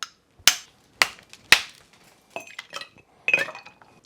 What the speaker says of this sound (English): Take one of my big cubes here, give it a crack